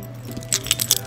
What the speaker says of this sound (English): These are my keys and my keychains.